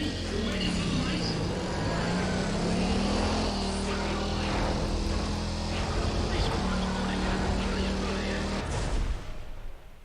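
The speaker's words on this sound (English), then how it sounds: "Just listen to the full madness of that engine." Racing car engine in NFS ProStreet roaring loud and steady at the start line, a sustained droning rev with shifting pitch that runs almost the whole time before cutting off near the end, with no talk over it.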